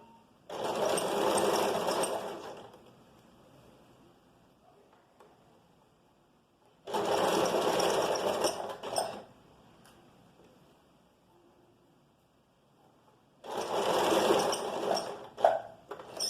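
A sewing machine stitches vest fabric in three steady runs of about two to three seconds each, separated by quiet pauses, close and moderately loud with no talk.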